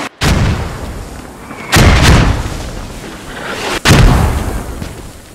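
Incoming artillery rounds in the video game Squad strike in three heavy, booming blasts, each a sharp loud onset followed by a long rumbling decay, spaced about two seconds apart.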